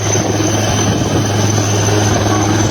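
A helicopter flying overhead during flood relief in Assam, its loud rotor and engine roar steady and close, with a low droning hum and no talk.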